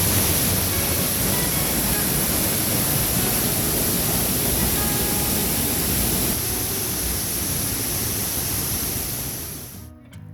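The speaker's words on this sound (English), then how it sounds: "Came up the creek a little ways to this 70-foot waterfall" A 70-foot waterfall in a small cave-like creek setting roars in a constant, dense wash of rushing water, loud and unbroken, fading abruptly at the very end.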